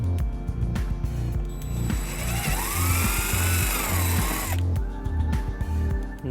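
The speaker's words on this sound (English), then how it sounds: "And then we'll drill our second hole." A power drill bores a hole with a 3/16 drill bit while a wiring harness is installed on a 2009 Toyota Camry, giving a loud, steady whine that rises as the bit cuts and then stops.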